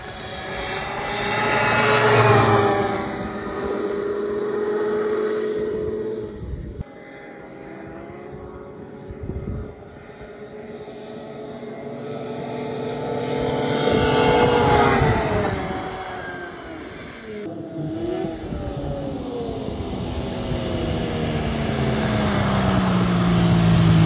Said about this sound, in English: Alex is out here doing some speed tests on his XLT.